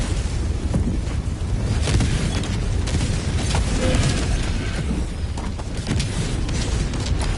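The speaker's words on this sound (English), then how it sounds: "Well, napalm barrage time." Napalm barrage strikes in Helldivers 2 make a continuous loud rumble of deep booms and crackling bursts, dense and sustained throughout with no talk.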